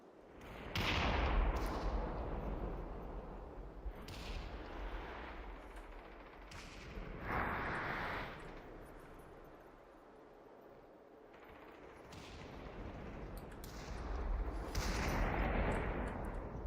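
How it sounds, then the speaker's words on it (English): Bursts of gunfire echo in the VR shooter Population: One during a duos tournament match, repeated volleys of sharp, mechanical-sounding shots rising and fading at moderate loudness with no talk over them. "F is in the shooting range, shooting everyone."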